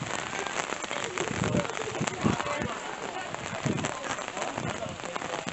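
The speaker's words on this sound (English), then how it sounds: "It's starting to rain cats and dogs right now." Heavy rain falling on a varsity softball field, a dense continuous patter and hiss with scattered louder drops, steady and close throughout.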